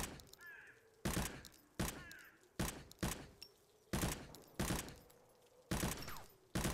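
Around nine separate gunshots from the Zero Sievert video game, sharp loud single reports spaced about half a second to a second apart, with faint bird caws in the quiet gaps.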